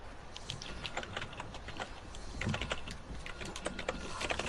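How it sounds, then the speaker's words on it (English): Rapid computer keyboard typing clatters steadily throughout, close and moderately loud, with a few heavier key strikes mixed into the continuous patter and no talking. "I hear his keyboard."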